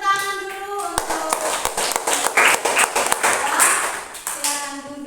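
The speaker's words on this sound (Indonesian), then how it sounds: "Kita tepuk tangan dulu" Students in a classroom clap together in a burst of sharp, fairly close handclaps that build and then taper off. A voice can be heard just before and after.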